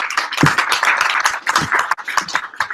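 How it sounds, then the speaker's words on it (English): A small audience at a Spark tech meetup claps for the speakers, with a few close, uneven hand claps forming short scattered bursts rather than a full ovation. "Let's clap for them."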